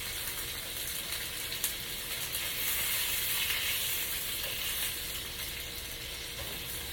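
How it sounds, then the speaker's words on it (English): Smoked sausages slow-cooking in a cast iron skillet give a steady, close, crackling sizzle that swells slightly partway through, with a faint clink here and there and no voices. "I'm letting my sausages slow cook, you guys, because this is going to go with the cabbage."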